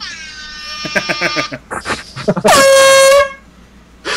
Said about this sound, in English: Somebody want an air horn?